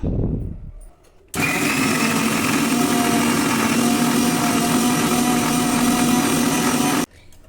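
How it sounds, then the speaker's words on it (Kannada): Mixer grinder grinding grated coconut for tomato bath, a loud steady motor whine that starts abruptly after a brief quiet moment, runs for about six seconds and then cuts off. "ನೆಕ್ಸ್ಟ್ ಇದನ್ನು ಗ್ರೈಂಡ್ ಮಾಡ್ಕೊಳ್ಳೋಣ."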